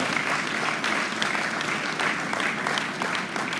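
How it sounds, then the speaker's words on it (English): An audience at a 2019 graduate induction programme gives a round of applause, a dense, even clapping that holds steady without a break. "I think it deserves a round of applause."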